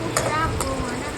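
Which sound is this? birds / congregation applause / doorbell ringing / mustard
mustard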